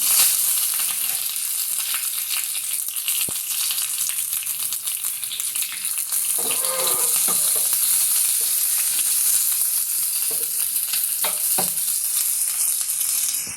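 Red chillies and curry leaves dropped into hot oil with already-popped mustard seeds for a tempering, making a loud, continuous close-up sizzle with scattered crackles and pops throughout, no one talking.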